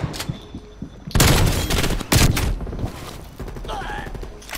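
Bursts of rapid gunfire from the video game Call of Duty: Cold War on the Nuketown map, loud and close, in a couple of heavy volleys with smaller shots and clatter between them.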